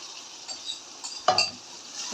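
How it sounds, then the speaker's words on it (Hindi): A spoon stirs chicken through a yogurt paste in a pot over normal heat, with soft scraping strokes, faint sizzling and one sharper metallic clink midway, close and quiet. "अभी इसको अच्छे से हिला लेंगे"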